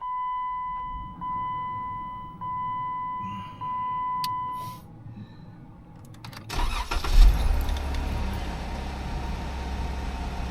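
A Jeep Wrangler with newly replaced fuel injectors gives a few repeated warning beeps, then the engine cranks, fires and settles into a steady, fairly loud idle with a brief rev.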